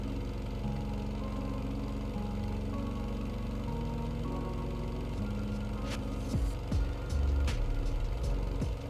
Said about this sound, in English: The engine definitely isn't running at 20 RPS.